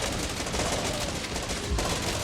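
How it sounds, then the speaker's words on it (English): Sniper fire rings out in the Infection Free Zone video game, with sharp cracks blending into a dense, continuous barrage of gunfire noise throughout and no pause. "the sniper's going off"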